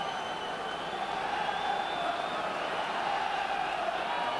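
Football crowd at a 1997 Middlesbrough v Liverpool League Cup quarter-final, a constant broad roar of massed voices that fills the stadium with steady noise and no single voice standing out.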